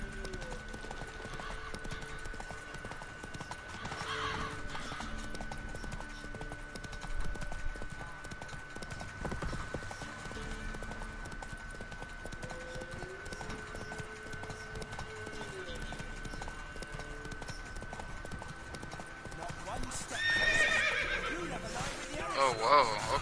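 A horse in the video game The Witcher 3 gallops with steady rhythmic hoofbeats, neighing at points, under game music and effects, while someone talks over it and a louder burst of action comes near the end.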